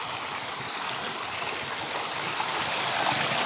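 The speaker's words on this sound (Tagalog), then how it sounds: "Ang agos." Water in a rocky stream rushes in a steady, broadband flow, continuous and fairly full, with no voices over it.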